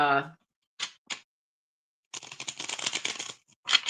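A large, new tarot card deck is shuffled by hand, a couple of short crisp riffles followed by a longer rapid flutter of cards, with a brief voice at the start.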